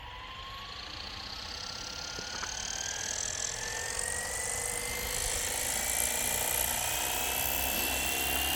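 A Flywing RC helicopter motor spins up for takeoff, its whine rising steadily in pitch while the noise grows louder and holds near and continuous, with no talk over it.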